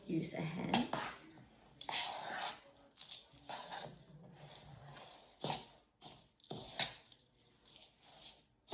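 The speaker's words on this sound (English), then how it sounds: "Okay, we're mixing with a spoon first" A spoon scrapes and clinks against a bowl while bread dough is mixed by hand, irregular knocks and scrapes coming in uneven bursts up close, with a dog faintly whimpering and moving around nearby.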